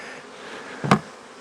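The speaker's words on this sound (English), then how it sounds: "It's got a lot of bees in it." Honey bees hum in a dense, steady drone around an open hive box during a beekeeper's inspection, close and continuous, with a brief clunk of the hive being handled near the middle.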